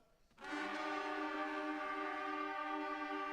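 Several beginner trumpets in a school band enter together and hold a single bright A, steady and slightly uneven, with no talking.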